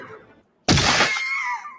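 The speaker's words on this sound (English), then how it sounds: "I took the Wilhelm scream and high pitched it." A Wilhelm scream sound effect raised to a high pitch bursts in after a brief silence, a loud, sudden shriek that holds for about a second before tapering into a thinner wailing tail.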